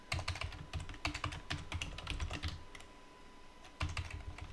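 Rapid bursts of keystrokes on a computer keyboard while entering router configuration, close and crisp, coming in quick clusters with brief pauses and a short gap before a final flurry.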